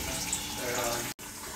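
Water runs steadily into a cooking pot holding rice for mole, a continuous close splashing hiss that cuts out briefly near the end, with faint voices in the background.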